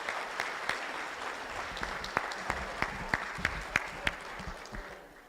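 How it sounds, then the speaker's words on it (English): A crowd applauds volunteers at the 2018 AOA fleece room reveal and social, a steady indoor wash of clapping with a few sharper, louder claps standing out near the front. "So we give a personal round of applause to them."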